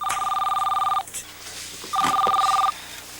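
A telephone rings indoors in a comedic TV scene: two loud electronic ring bursts, the first longer, separated by a short gap, close and clear.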